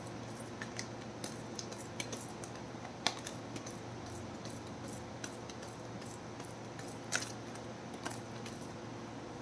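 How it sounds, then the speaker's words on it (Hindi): Tarot cards being shuffled by hand, soft continuous riffling and rustling with occasional sharper snaps, close and fairly quiet throughout, no talking. "This is my last shuffle."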